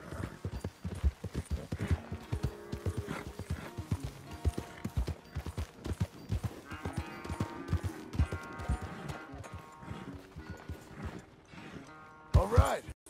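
Horse hooves clip-clop at a steady walking pace in Red Dead Redemption 2, close and clear, with game voices talking over them and a louder burst near the end.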